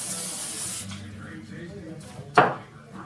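A short hiss of cooking oil spray over thin pork steaks, close and brief at the start, followed by soft handling noises and one sharp knock.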